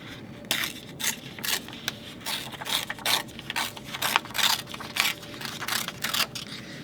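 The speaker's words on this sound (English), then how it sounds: "by just tearing a little bit at a time, then I can get that more jaggedy kind of an edge" Paper tears a little at a time for a jagged edge in a scrapbook album, giving short, crisp ripping bursts in a quick irregular rhythm, close but fairly quiet.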